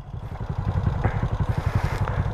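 A Honda Titan 160 motorcycle engine revving hard, rapid throbbing exhaust pulses with a rising climb in pitch, close and loud, no voices.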